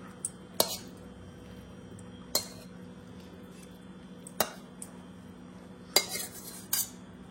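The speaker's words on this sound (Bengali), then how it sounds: "এই যে ঢেলে নিচ্ছি স্পেশাল এঁচোড় রান্না।" Cooked green jackfruit curry tipped out of a pot in a home kitchen, heard as a handful of sharp metallic clinks and scrapes of a utensil against the pot, spaced apart over a faint background hum.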